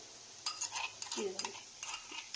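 Banana flower curry being stirred in a pan with a spoon, close scraping and clinking strokes in short bursts over a faint sizzle, with no talking.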